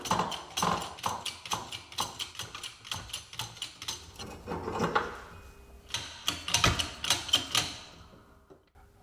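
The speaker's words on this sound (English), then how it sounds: "Let's use a socket extension on this one." A ratchet with a socket extension clicks in rapid bursts while working out a ball joint bushing on a Jaguar S-Type, with metallic clanks and knocks, close and loud, easing off toward the end.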